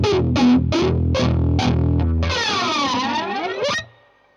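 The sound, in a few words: Boss MS-3 multi-effects distortion on guitar chugging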